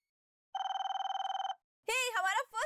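An old-style telephone bell rings in a rapid trill for about a second inside a radio studio, followed by someone speaking.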